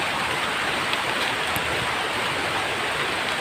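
Steady rain hisses continuously, a dense wash of falling water with no voices, moderately loud and unbroken throughout.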